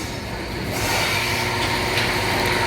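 A train runs along the railway track at Sadiqabad station in Pakistan, a loud, steady broadband rumble and roar that swells slightly after the first second and continues without pause.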